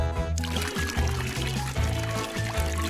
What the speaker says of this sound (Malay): Pertama, tuangkan air di dalam.